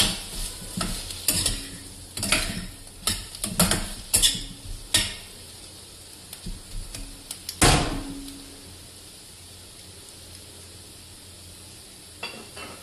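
A spoon stirs bottle gourd curry with fresh grated coconut and coriander in a metal pan, giving a run of sharp scraping clanks and knocks under a faint sizzle, then a single loud clang and quiet.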